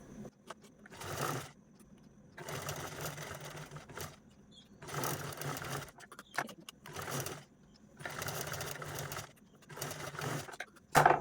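A sewing machine runs in repeated bursts while stitching along a drawn round shape on blouse cloth, each run a steady whirring rattle lasting a second or two, separated by short pauses as the fabric is guided.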